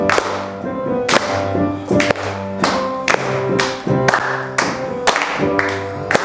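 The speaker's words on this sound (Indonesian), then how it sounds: "yuk tepuk tangan semua." Children and adults at a kids' church service clap in unison, sharp rhythmic claps landing about once a second over a sung tune with steady tonal accompaniment.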